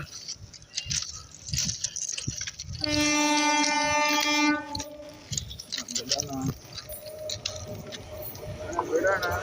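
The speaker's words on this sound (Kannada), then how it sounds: "ರೈಲ್ ಬರ್ತಾ ಇದೆ" A train horn blares loudly for a couple of seconds as a train rumbles past on railway tracks in Davanagere, India, with people talking and shouting nearby before and after.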